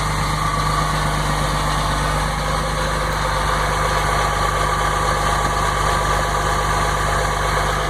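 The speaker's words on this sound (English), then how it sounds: "Take a second here to get up on that fast idle." A 2006 Dodge Cummins diesel truck engine sits on fast idle after a cold start, a steady, loud, continuous low rumble with mechanical clatter and no change in pitch throughout.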